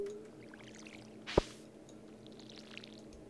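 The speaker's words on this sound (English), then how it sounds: "Fill our watering can." A watering can is filled in the Stardew Valley video game, a brief splashy gush standing out over quiet background game music.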